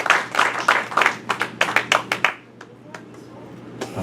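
A short round of clapping from a small group, brisk and close, fading out after a couple of seconds into quiet room noise.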